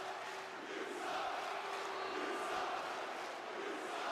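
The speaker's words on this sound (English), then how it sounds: "The crowd letting him know it, that he sucks." A wrestling crowd jeers a villain at an event, a steady roar of many voices that hums evenly, with a loose chant-like swell in the middle and no single voice standing out.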